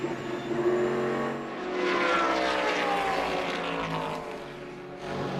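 A race car competing in a 2012 endurance race, recorded onboard while leading the championship, gives a loud, steady engine roar that swells and eases with gear changes, close up and alone with no voices.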